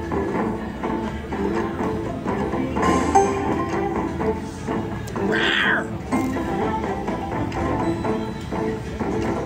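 A roaring tiger sound effect from the Mighty Cash Tiger Roar slot machine rises briefly out of a dense wash of casino machine music and clatter.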